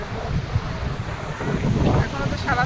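Sea waves and wind at the seashore at Digha, a continuous rough roar of surf and buffeting wind across the microphone, loud and close, with faint voices in the background.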